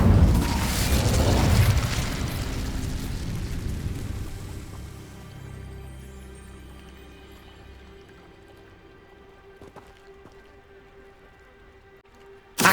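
An Incendio fire spell in Hogwarts Legacy bursts loudly at the start with a deep whoosh and roar, then fades over several seconds into a crackling, hissing tail and near quiet.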